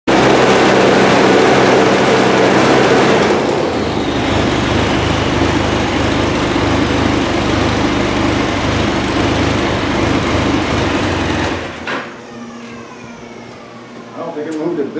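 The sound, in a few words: Arctic Cat snowmobile track running on slide rails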